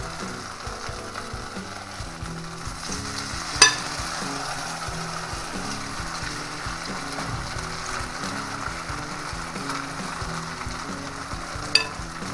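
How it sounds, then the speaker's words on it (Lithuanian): Constant soft sizzling of pancake batter frying in a pan over medium gas, a continuous crackle with a couple of sharp clicks, no talking. "Nu, jau kepam ant vidutinių dujų."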